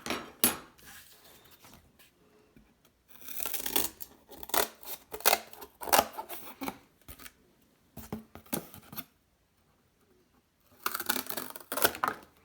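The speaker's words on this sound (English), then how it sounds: "I'm going to cut with a pair of scissors." Close, crisp snips and crunching cuts of scissors through cardboard come in short bursts separated by quiet pauses.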